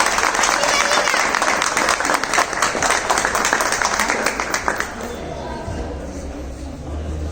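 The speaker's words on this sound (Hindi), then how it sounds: "एक बार जोरदार तालियों से स्वागत करेंगे" An audience gives a loud welcoming round of applause for a guest at a gathering, dense steady clapping for about five seconds before fading into quieter room noise.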